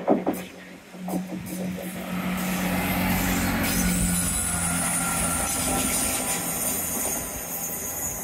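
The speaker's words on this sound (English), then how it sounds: "film this train" A train rolling past on the Teignmouth seawall line, building from a low rumble into a sustained loud roar of wheels and wagons with faint squeal tones, close by and steady to the end.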